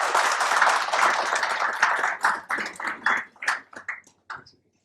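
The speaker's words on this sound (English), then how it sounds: "I would first request you all to give them an applause on that behalf." An audience at a seminar claps loudly together for several seconds, the applause thinning into scattered individual claps before fading out.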